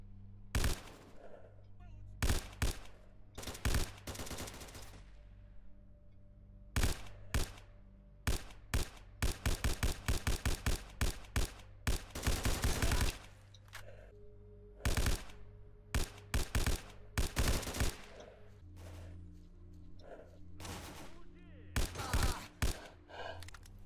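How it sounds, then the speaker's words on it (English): Repeated bursts of gunfire in the video game Call of Chernobyl, set in a forest, with rapid automatic volleys and single shots cracking loudly over a steady low hum through the whole stretch. "Someone's shooting at me."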